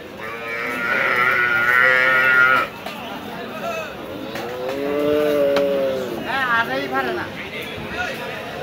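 Cattle at a busy village cow market low and moo in several drawn-out calls, one long and loud at the start and others following, with crowd chatter and someone talking throughout.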